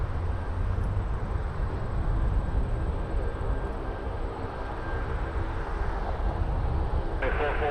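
An airliner taking off at Toronto Pearson Airport, a continuous broad roar of jet engines heard at a distance with a steady high whine over it.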